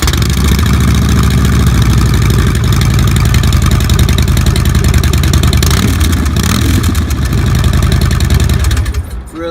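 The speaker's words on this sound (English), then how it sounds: "Nice aftermarket exhaust, nice short pipes there. Real nice throaty sound." A 2012 Harley-Davidson Dyna Wide Glide with short aftermarket pipes idles close and loud, a deep throaty, steady lumpy pulse that runs throughout and cuts off at the end.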